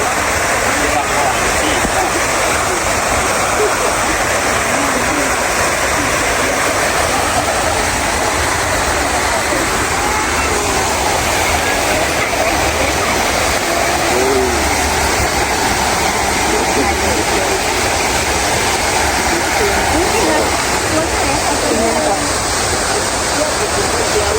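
A waterfall at a forest cafe pours in a loud, steady broadband roar that fills the whole stretch without pause, with faint voices mixed under the rushing water.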